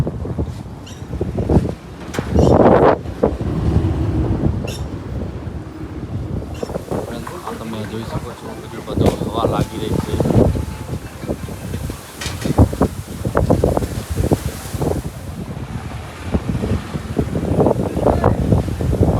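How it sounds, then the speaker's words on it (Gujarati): Strong wind buffets the microphone in loud, gusty rushes, with a voice speaking intermittently over the roar. "હવા જ ઘણી લાગી રહી છે"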